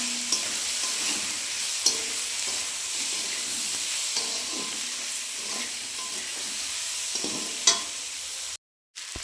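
Tomato and potato frying with green chili, salt, turmeric and chili powder give a close, continuous sizzle with scraping stirs and a few sharper clinks; sound cuts out briefly near the end.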